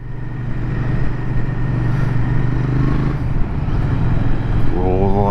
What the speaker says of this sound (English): Speaking of Jodie, we are now both going to get out on the bikes and give this a real road test.